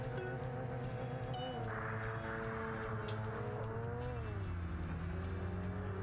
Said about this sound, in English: Yeah, first time driving in the rain.